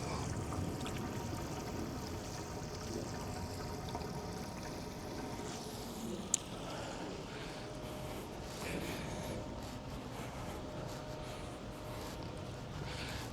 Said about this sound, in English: Let's get a look at that little tiny waterfall.